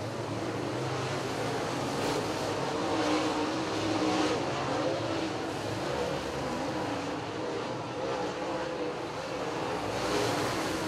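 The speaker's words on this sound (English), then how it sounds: "Drag racing through the corners here of the Hilltop Speedway." Late model race cars roar around the Hilltop Speedway in a steady, dense wash of engine noise that barely changes in volume, heard from the grandstand distance.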